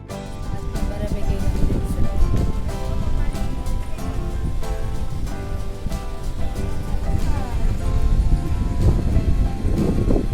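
Sea waves break against rocks at Bhogwe beach in a steady, rushing wash of surf that swells and recedes without pause, with faint voices beneath.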